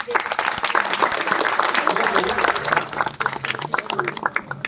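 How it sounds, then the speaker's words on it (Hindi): A live audience claps before a Hindi poetry recital about Lord Krishna, a dense steady applause with crowd murmur and some talk mixed in, thinning toward the end. "एक बार मुझे तालियां बजाकर शुरू करें।"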